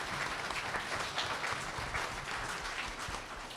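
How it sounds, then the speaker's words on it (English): An audience at a college event applauds counselors with steady, dense clapping that holds evenly throughout at moderate distance. "We gotta give a big round of applause to all those amazing folks."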